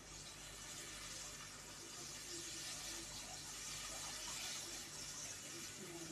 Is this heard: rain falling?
no